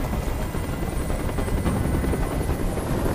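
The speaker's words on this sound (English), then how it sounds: "I can't stand that noise anymore. Tell that helicopter to get out of here." A police helicopter hovers in a rooftop hostage scene in the video game Detroit: Become Human, giving a loud, continuous rotor roar that holds steady throughout with no voices.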